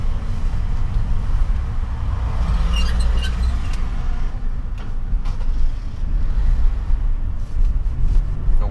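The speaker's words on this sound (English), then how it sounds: "A lot of traffic today." Cabin of a BMW 745i E65 moving through city traffic: a constant low road-and-engine rumble with passing vehicle noise, faint clicks and rattles, loud and steady, no talking.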